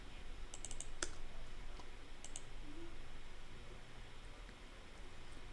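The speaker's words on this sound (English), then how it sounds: "Let me type in Thiago Motta's full name." Quiet clicking of keys on a computer keyboard, a few brief taps scattered over faint background hiss, with no talking.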